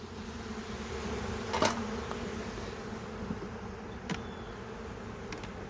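Honeybees hum steadily in an opened spring hive full of brood, a close, continuous drone with a few individual bees zipping past the microphone.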